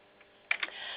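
A short burst of computer keyboard typing, a few quick close clicks after a quiet moment, running into a steadier patter of keys, with no talking.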